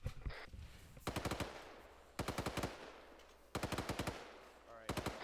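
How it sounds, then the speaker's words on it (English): Machine guns firing in Arma 3 combat, four separate rapid bursts of several loud cracking shots each, spaced about a second apart over a low background hum. "Machine guns open fire on the position."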